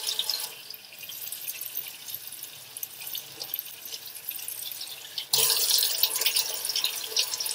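Tap water runs into a sink as soap is rinsed off hands, a soft steady splashing that jumps louder near the end as the flow increases, with no voices.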